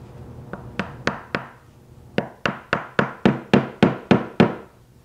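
A series of sharp wooden knocks as dowels are tapped into glued holes in a Shaker table: a few spaced taps, then a quicker steady run of about ten evenly timed hits, close and clear.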